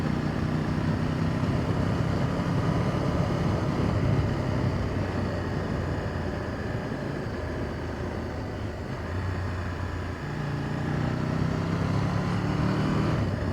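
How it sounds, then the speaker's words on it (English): Aprilia RSV1000R motorcycle engine braking on a bumpy road, a steady loud engine drone with wind rush throughout, the pitch easing and shifting midway, heard from the rider's position with no talk. "Oh, that engine braking is mint."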